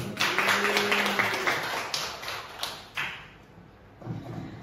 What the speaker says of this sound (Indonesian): Biar tambah semangat kita beri aplaus dulu